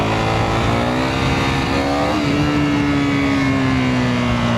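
A KTM Duke 390 motorcycle engine revs loud and steady, its pitch rising and then dropping back as a gear shift is made, close and continuous with no talk.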